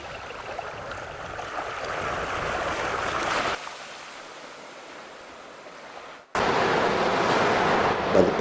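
Sea waves pound a black-sand beach on Krakatau inside a volcanic caldera, a loud roaring wash of surf with wind noise that cuts out for a few seconds, then returns abruptly.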